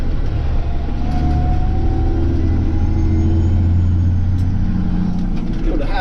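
A Peterbilt 359 truck engine drones loud and steady through a 15-speed transmission shift, a deep low rumble holding throughout with a brief dip at the gear change.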